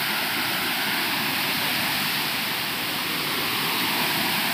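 Steady, loud broadband roar of the Muttal waterfall heard from a trail nearby, a continuous rushing wash of falling water with no breaks and no voices.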